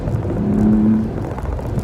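A BMW M4 F82 engine pulls under throttle as a steady, close, droning rumble with a brief tonal whine rising in the middle of the clip.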